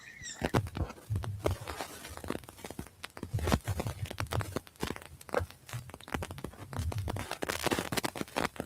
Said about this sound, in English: I can hear a bit of rustling in the background.